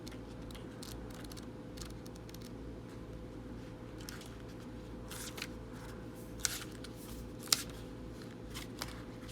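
Native Spirit Oracle cards being shuffled by hand, a soft steady riffling texture with scattered light clicks and taps rising above a low constant background hum, no voices.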